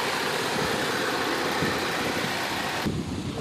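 A 2009 Saab 9-3 Turbo idles with its engine running smoothly, a steady mid-pitched rumble with a broad airy hiss heard close up, constant for about three seconds before the upper hiss suddenly drops away.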